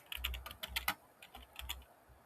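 Quiet computer keyboard typing during an STM microcontroller clock configuration tutorial: a short burst of several close, soft key clicks in two quick clusters, no talk.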